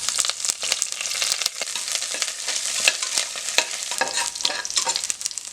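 Curry leaves hitting hot oil in a pressure cooker while mutton kuzhambu is being made, crackling and sizzling loudly with sharp pops and stirring scrapes, close and continuous with no talk.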